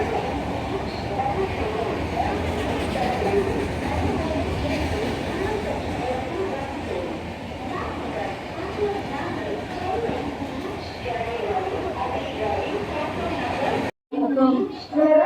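An express train roars through a railway station, producing a heavy, continuous rumble and rattle that fills about fourteen seconds before stopping abruptly, with people chattering nearby.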